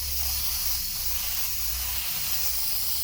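Fluorescent orange spray paint hisses steadily from an aerosol can, sprayed to paint planets for an epoxy countertop, a continuous close, loud hiss with no pauses.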